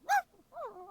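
Sudsy, a dog in the video game Date Everything, lets out a short high yelp followed by a soft whining whimper, quiet and brief with no talking.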